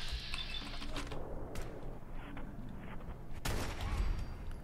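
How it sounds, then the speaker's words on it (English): Gunfire in the Fallout 4 video game during survival play: bursts of rapid shots and a sharp loud blast near the end over a busy game soundscape, no clear speech. "I'm still getting shot at by somebody."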